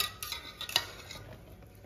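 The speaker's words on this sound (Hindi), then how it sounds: "मसरों के लिए तड़का हो रहा है तैयार" Tadka tempering for masoor lentils being prepared in a home kitchen, with a faint sizzle and a few sharp metallic clinks of a spoon stirring in the pan, quiet and close, without talk.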